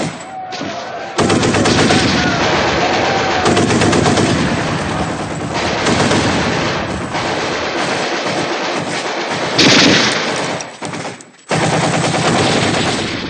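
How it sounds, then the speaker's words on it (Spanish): Bursts of rapid gunfire crackle loudly and repeatedly, sustained volleys with brief pauses between them, no talking. "Poco después de pasar De Gaulle resuenan disparos, dispersando a la multitud en tan solo un instante."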